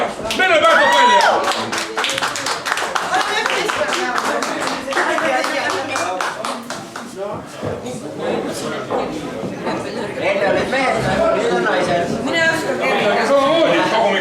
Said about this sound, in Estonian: Teeme Merrele ka suure aplausi.